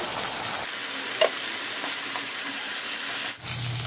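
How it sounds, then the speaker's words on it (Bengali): Masala spices fry and get stirred in a pan with a splash of water while cooking an eggplant dish, a steady close sizzling hiss with faint scraping touches throughout, no voices. "দিয়ে ভালো করে নাড়াচাড়া করে নিয়ে মশলাটাকে কষিয়ে নেব"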